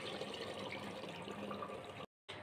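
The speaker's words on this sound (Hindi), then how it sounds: "जनाब इसमें गया पानी।" Water is poured into a clay pot of mutton being slow-cooked, a steady faint splashing pour that cuts off briefly near the end.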